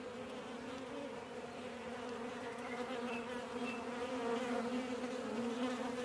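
Honeybees at a nucleus hive fitted with wax foundation make a dense, steady buzzing hum that continues without a break, close and constant throughout.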